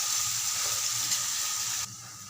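Green chillies, soaked lentils and turmeric fry in a pan with a steady, close hiss and sizzle that drops in level shortly before the end, with no talk over it.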